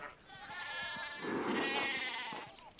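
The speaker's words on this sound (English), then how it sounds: "we need to get these sheep under control." Sheep bleat in the video game Pentiment, with one loud, wavering, close bleat that swells and fades over a couple of seconds amid faint game noise.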